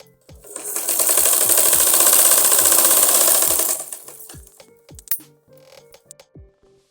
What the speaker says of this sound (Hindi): कपड़े को फोल्ड करते हुए इसके ऊपर से हमने सिलाई लगानी